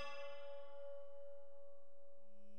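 Single bell strike in the video game Strawberry Cubes, a clear metallic ding ringing out and fading over a couple of seconds with a sustained tone.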